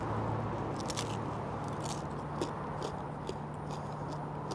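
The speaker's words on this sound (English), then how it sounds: "And check out the crunch on this." Crispy porchetta crackles as it is bitten and chewed, a steady run of close, crisp crunches and small snaps over a low background hum.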